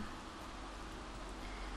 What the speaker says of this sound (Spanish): Porque está lloviendo la de Dios